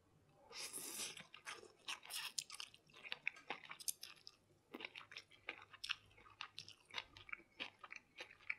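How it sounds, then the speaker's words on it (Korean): Oyster noodles from a Macau restaurant slurped and chewed close to the mic, with soft wet bites and crunchy smacks in an irregular rhythm, no talking. "굴국수를 집에서 처음으로 사먹는 ASMR"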